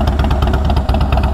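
A loud, brutal-sounding chrome-laden motorcycle engine running close by, a deep, throbbing idle with a rapid steady pulse and no voices over it.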